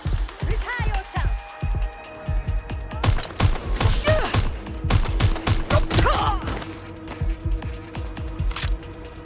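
Gunfire in the video game Watch Dogs: Legion, rapid bursts of loud, close shots in irregular clusters, mixed with game voices and other in-game sounds.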